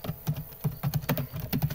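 Quick, close keystrokes clatter on a computer keyboard in a short burst of uneven typing.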